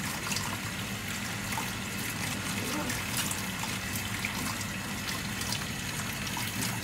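Water runs and trickles steadily as newly bought aquarium fish and a net are rinsed, a continuous close splashing flow with no clear pauses.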